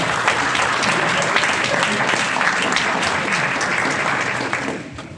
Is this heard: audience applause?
yes